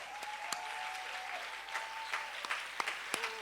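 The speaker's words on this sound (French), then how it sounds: "Acclame bien fort." An audience applauds steadily for a few seconds, a fairly distant patter of many clapping hands with a few sharper individual claps standing out, at low volume and without talk.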